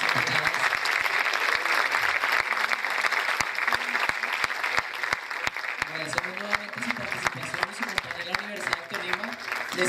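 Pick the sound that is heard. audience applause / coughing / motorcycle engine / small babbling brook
audience applause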